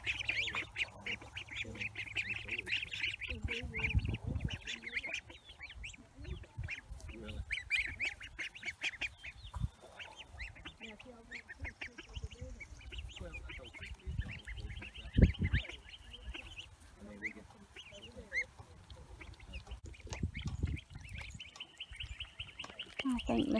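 Baby ducks and geese outdoors near a spring garden, quacking and peeping in scattered bursts at close range, mixed with other bird chirps and background rustling.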